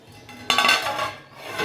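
A metal lid clinks back onto a cooking pot of boiled hilsha in a home kitchen, one sharp clatter followed by a brief ringing rattle, close and fairly loud with no talk.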